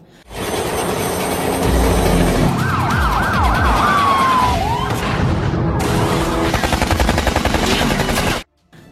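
Police sirens wail loudly through a film car chase, a rising-and-falling siren sweep rolling over dense engine roar and crashes, sustained for several seconds before cutting off abruptly.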